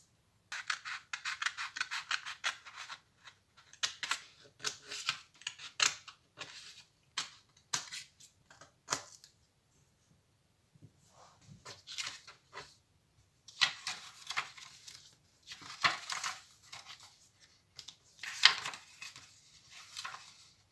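Scissors cut paper along drawn lines for a paper lantern, making quiet, close snips and crisp rustles in short irregular bursts separated by pauses.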